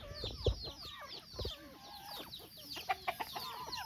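A backyard rooster clucks in a few short, soft bursts amid busy chirping from other birds, fairly faint with no talk.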